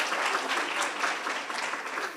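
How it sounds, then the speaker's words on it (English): An audience at an academic colloquium claps steadily and fairly loudly in a dense, continuous round of applause that lasts the whole stretch. "Let's give him a big round of applause."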